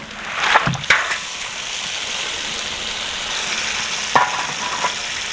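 A ladle stirs a large fish karahi in a wok over a wood fire in a village, a few knocks and scrapes against the metal over a steady close sizzle and bubbling, with no talk.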